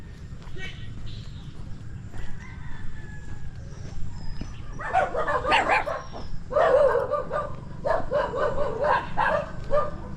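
Several dogs bark in bursts on a street in the Philippines, with a few sharp barks over the second half amid outdoor traffic noise and a passing trike.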